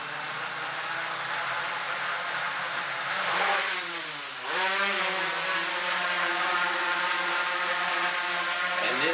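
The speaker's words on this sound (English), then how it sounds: "it sounds like it has some powerful motors" Motors of a Traxxas Aton drone whir steadily, close and fairly loud, with a brief dip and sweep in pitch midway before the even whine resumes.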